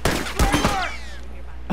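Gunfire in The Last of Us Remastered: a quick cluster of loud close shots followed by a ringing tail, with another burst at the end.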